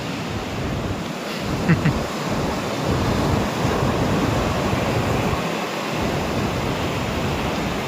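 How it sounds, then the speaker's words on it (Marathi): Ocean surf roars steadily at Chivla Beach in Malvan, waves rolling and breaking continuously with wind rushing across the microphone. "त्या लाटा बघा कशा दिसतात"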